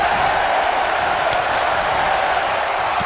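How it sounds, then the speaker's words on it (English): A large video game crowd at a WWE 2K19 women's Royal Rumble roars steadily and loudly throughout while counting along, a dense wall of voices with no clear pauses. "Listen to this crowd count the next one in."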